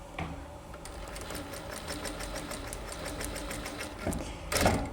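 Sewing machine stitching a skirt's pocket and pleats together in a single pass, a rapid steady mechanical whirring chatter, close and continuous, ending with a brief louder burst as the fabric is handled.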